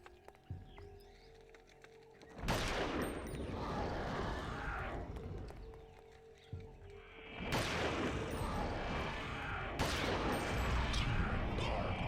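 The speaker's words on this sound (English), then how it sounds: "Now to destroy this eldritch horror with my automatic pistol." An automatic pistol fires in Eternal Darkness: three loud bursts of rapid shots, each ringing out for a few seconds, separated by quieter stretches with a faint ambient drone.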